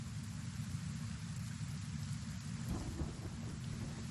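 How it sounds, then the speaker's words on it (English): Acid rain with thunder in the video game Kenshi: a constant heavy downpour hiss and a deep rolling rumble swelling near the end, with no talk over it. "Get away from the acid rain."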